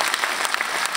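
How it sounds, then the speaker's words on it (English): Dense applause from a live show audience fills the whole moment, loud and continuous, a full room of hands clapping at once. "rapturous round of applause."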